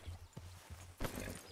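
Horse hooves clip-clopping in the video game Red Dead Redemption (RedM), a few distinct hoof strikes in an uneven walking rhythm, moderately close, followed by a louder burst of movement near the end.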